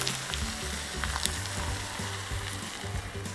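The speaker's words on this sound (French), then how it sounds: "quand ça chante comme ça, la crêpe a déjà pris une partie de sa couleur" Steady, soft sizzling of crepe batter cooking in a hot pan, a continuous crackling hiss with faint scraping.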